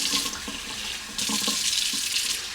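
Water runs from a kitchen tap into a bowl of oats, a steady splashing hiss that jumps louder partway through as the flow increases.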